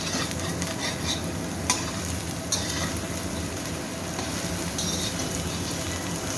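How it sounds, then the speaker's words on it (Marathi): Onion frying in oil while being stirred, a continuous loud crackling sizzle with a few sharp clinks of a utensil against the pan, close up and steady, no voices. "तेलामध्ये कांदा वगैरे आणि याच्याबरोबर चांगलं भाजून द्यायचं परतून घ्यायचं"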